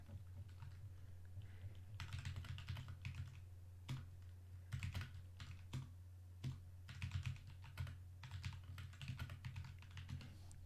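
Computer keyboard typing comes in quick bursts of rapid clicks separated by short pauses, fairly close but soft, over a constant low hum and with no talking.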